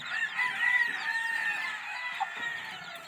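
A crowd of chicks from elite fighting-rooster breeding sires at a game farm peeps steadily in a high, continuous chorus, close and moderately loud.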